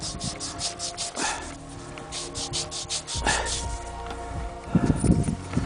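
Close, scratchy rubbing in quick repeated strokes as dirt is rubbed off a 1980 coin between fingers, with some wind buffeting in the background.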